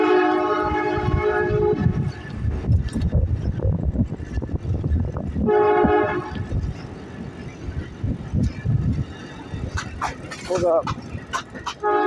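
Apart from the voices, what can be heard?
Norfolk Southern freight stack train passing with horn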